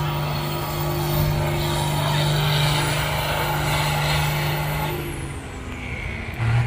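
A hot stock tractor roars at a fair tractor pull, a loud, steady, droning engine with a heavy low hum that holds throughout, eases slightly near the end, then swells again.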